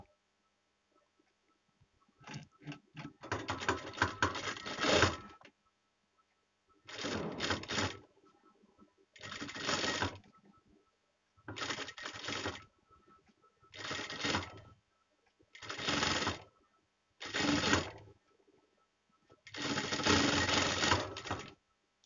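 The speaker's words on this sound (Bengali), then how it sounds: "আমি এখানে সেলাই দিয়ে এটা এটার সাথে এটা জুড়ে নেব" A sewing machine stitches bra-cut blouse pieces together in eight loud bursts of rapid whirring, each lasting one to three seconds and separated by short pauses.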